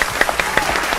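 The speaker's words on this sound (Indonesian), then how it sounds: "Tepuk tangannya." A small group claps in a quick burst, close and fairly loud, each individual clap distinct for about a second.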